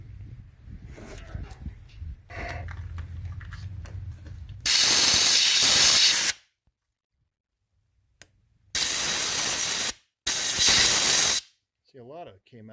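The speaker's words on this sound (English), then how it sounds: "let's go ahead and blow that out with the air hose." A compressed-air hose blows coolant out of a Duramax diesel thermostat housing: three loud, harsh hissing blasts separated by silent gaps, each lasting one to two seconds, after some quieter handling noise.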